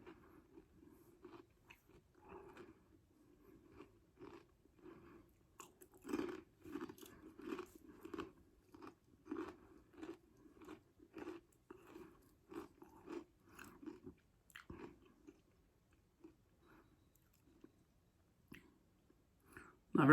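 Doritos 3D Crunch ranch-flavored chips are crunched and chewed close to the mic, a run of crisp, irregular bites that builds to a steady chewing rhythm and then thins out toward the end.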